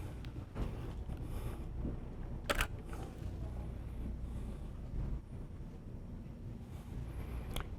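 A single-lens reflex camera shutter fires at slow speeds around 1/30 second, leaving a few brief sharp clicks spaced seconds apart over steady background hiss, close but not loud.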